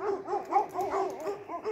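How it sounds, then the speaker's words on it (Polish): Several guard dogs bark and yelp in quick, overlapping bursts, fairly close and loud, with whining tones mixed between the barks. "nie wiem, czy wy słyszycie te psy"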